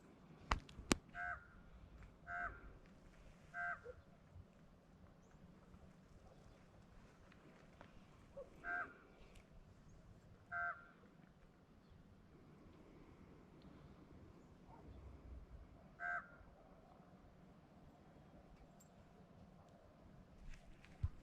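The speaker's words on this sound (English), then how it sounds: "That is a raven." A raven gives unusually high-pitched calls outdoors at sunrise: short, clear croaks spaced irregularly, some in quick pairs or triples, at a moderate distance over a quiet background.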